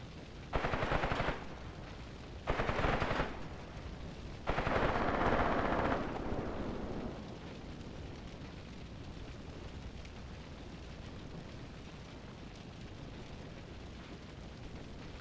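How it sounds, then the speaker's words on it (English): Artillery shelling in the WWII tactics game Graviteam Tactics: Mius Front, three loud booming blasts in close succession, the last rolling on into a long, fading rumble with no voices. "Come on, keep shelling them."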